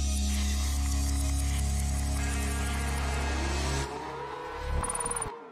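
Nissan 180SX drift car sits at the start line during a drift series round in Melaka, its engine holding a loud steady idle-rev drone before cutting out, then a brief rising rev near the end.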